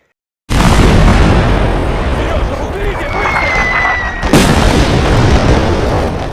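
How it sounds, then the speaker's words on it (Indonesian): Bombs explode without pause in a World War II battle scene, a loud, dense roar of blasts and rumbling debris that begins suddenly and surges again with a second hard impact near the end. "tentara Jerman kembali menyerang dengan menjatuhkan bom secara bertubi-tubi"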